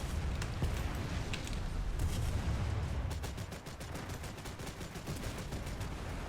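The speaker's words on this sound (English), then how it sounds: "blapping as many rounds into enemy ships as you can before you die" The rapid-firing flak guns of an SF40 Leichte Flak Barge pound away at enemy ships in War Thunder naval combat, a dense continuous stream of gunfire and booms, loud and close, with a quick regular rattle of shots toward the end.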